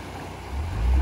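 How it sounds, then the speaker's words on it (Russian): A Nissan Patrol off-road vehicle fording a river, with a low rumbling engine and water rush swelling louder toward the end of the short moment. "и вот сейчас через речку едем"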